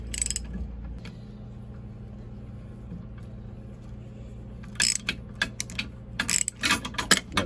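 A flaring tool on a replacement brake line for a 1990 Toyota 4Runner is cranked in, giving close, sharp metallic clicks and ratcheting turns, sparse at first then rapid bursts near the end, with a low hum beneath.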